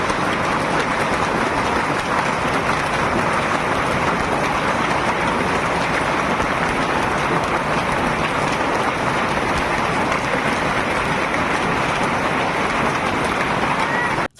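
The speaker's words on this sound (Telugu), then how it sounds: "మొత్తం వడగల్లే పడుతున్నాయి ఆకాశంలోకెళ్ళి." Heavy rain mixed with hail hammers down steadily and loudly in Telangana, a dense unbroken roar of pelting drops for the whole stretch with no clear talk.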